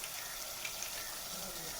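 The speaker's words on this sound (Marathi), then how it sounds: "इकडं पप्पाने आहे ना खेकडे टाकायला सुरुवात केलंय." Steady, close sizzling hiss from a cooking pot as crabs are added for a spicy home-style crab curry, with a continuous wet frying crackle and no talking.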